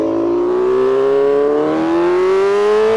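A 2025 BMW S1000RR motorcycle engine accelerates hard, a loud close-up whine climbing steadily in pitch for three seconds with no talk.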